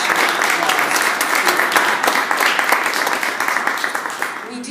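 Audience applause at a community event in a fitness center, a steady dense wash of clapping lasting the whole stretch, fading slightly toward the end.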